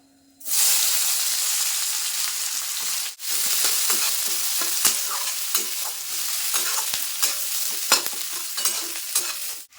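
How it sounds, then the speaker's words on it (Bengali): A loud, steady sizzle of chopped onions hitting hot oil over fried whole spices, with a brief pause, then continuous frying hiss and scattered stirring scrapes and taps. "ফোড়নটা একটু ভাজা ভাজা হয়ে গেছে এখন পেঁয়াজ কুচি দিয়ে দেবো"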